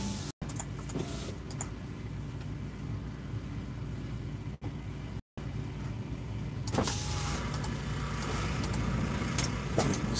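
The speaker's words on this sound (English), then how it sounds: "I'm just going to crack a window." An electric car window hums as it lowers, followed by a rise in rushing outside air and road noise.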